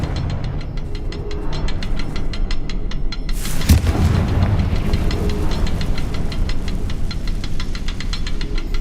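A sudden fiery Confringo spell blast from Hogwarts Legacy bursts out once, loud and close, over a steady rumbling, rattling drone that keeps going before and after it.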